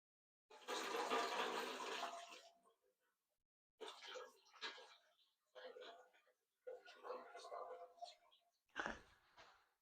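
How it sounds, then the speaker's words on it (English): Water pours and gurgles into a pressure cooker for mushroom substrate sterilisation, first in one long fill and then in several shorter bursts, heard close and clear with quiet breaks between them. "So we've got the pressure cooker filled up now"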